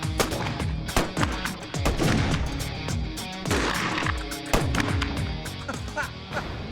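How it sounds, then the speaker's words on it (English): Gunslingers firing pistols at a hat collection, a rapid string of sharp, loud gunshots cracking close in one after another with brief gaps, and no talking. "Our gunslingers take pot shots at their whole hat collection."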